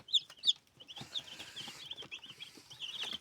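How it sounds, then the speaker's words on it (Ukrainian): High, thin peeping from a cluster of two-day-old chicks, some of them naked-neck chicks, rapid and continuous, fairly quiet and close, with faint shuffling underneath. "Це курчата з нашого інкубаційного яйця, з наших, від наших курочок."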